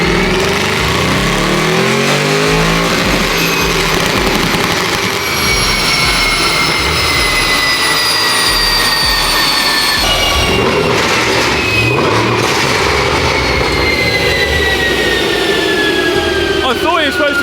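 A tuned Audi RS6 screams hard on a dyno run, a loud sustained high-rev roar with sweeping rising tones and a brief shift partway through, close and continuous.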